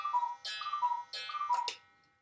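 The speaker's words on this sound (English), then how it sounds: "Sorry, that's the cuckoo clock." A cuckoo clock sounds its call, a run of tonal two-note chimes repeated several times in a quiet room before fading out.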